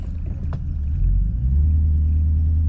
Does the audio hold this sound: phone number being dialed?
no